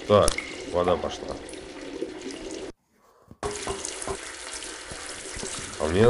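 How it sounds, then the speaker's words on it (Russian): Water gushing steadily from a tap in a pipe-themed quest game ('Full Pipe'), loud and continuous under a speaking voice, cut by a brief near-silent gap midway. "Так, вода пошла."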